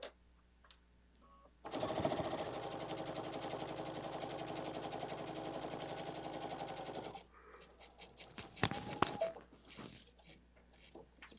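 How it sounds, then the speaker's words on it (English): A sewing machine back stitches at the top of a seam, a fast continuous rattling run of about five seconds at close range, followed by softer handling clicks and a few sharp knocks. "Just back stitching a little bit just to give us a little extra strength at the top"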